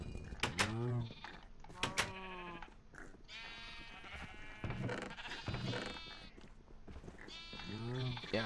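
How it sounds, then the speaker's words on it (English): Sheep in the Terrafirmapunk video game, among them young lambs, bleat repeatedly in close, wavering cries, several in quick succession near the start and more toward the end. "we've got all these baby sheep"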